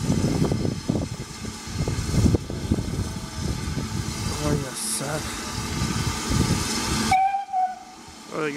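BR Standard Class 9F steam locomotive 92212 departing Ropley station on the Mid Hants Railway at an autumn steam gala, with a loud, steady roar of steam and hiss that cuts off abruptly near the end.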